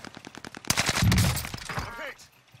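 Gunfire in Warzone Pacific, a short rapid burst of close, sharp shots followed by a louder sustained crackling volley that fades out, with a voice speaking over it.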